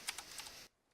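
Quick keystrokes clatter on a computer keyboard while C# code is typed, four or five close, light taps in a short burst that stops abruptly, with no talking.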